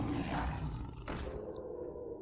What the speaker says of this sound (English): There's a big tiger.